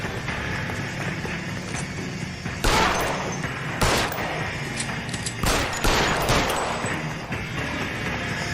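Gunfire in the video game L.A. Noire: several sharp, loud shots in separate bursts, two close together near the end, over a steady background din with no talk.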